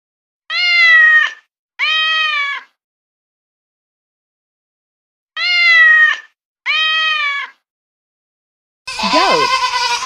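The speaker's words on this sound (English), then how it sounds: "Cat." A cat gives four loud, drawn-out meows in two pairs separated by a pause, with no other sound around them. A different, rougher animal call starts right at the end.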